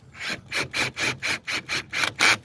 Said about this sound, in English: See if we can loosen up that tension.